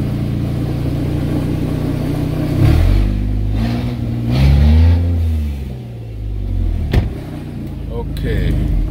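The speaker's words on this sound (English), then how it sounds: "2009 Camry 6-cylinder. It's running like crazy." A 2009 Toyota Camry six-cylinder engine idling with a low steady rumble, then revved up several times in rising and falling surges, close by, with someone speaking between revs.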